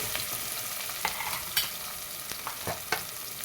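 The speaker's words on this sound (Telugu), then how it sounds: "పచ్చిమిర్చి ఉల్లిగడ్డ వేసుకున్నా ఒక కొంచెం మగ్గినాయి ఉల్లిగడ్డ పచ్చిమిర్చి" Onions and green chillies fry in a pan with a steady close sizzle, broken by intermittent scraping strokes of a spoon as they are stirred, with no talk.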